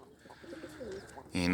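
Birmingham Roller pigeons coo from a loft, soft low calls near the start building to a louder, fuller burst of cooing at the end.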